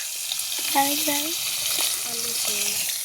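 Cauliflower and potato curry sizzling and frying in a pan for a morning meal, a steady hiss with occasional stirring scrapes and a few faint squeaky tones over it.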